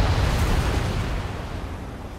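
A missile strikes an aircraft in the Ace Combat 7 air-combat video game, a loud rumbling explosion that bursts at once and then slowly rolls away into a dull roar.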